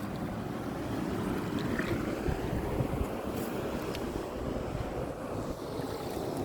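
Continuous wash of water and waves at a rocky shore, broad surf-like noise mixed with steady wind buffeting the microphone, loud and unbroken, with no talking.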